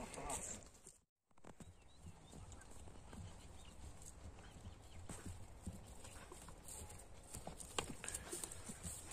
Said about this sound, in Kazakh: Екінші атты ап шығайлы.